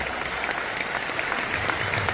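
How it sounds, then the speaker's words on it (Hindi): Steady, dense applause from a large audience at a corporate event honouring 35 prize winners of wireless earphones, continuous and evenly loud throughout with no talk. "एक बार तालियां बजा सकते हैं इन विजेता के लिए यहां से।"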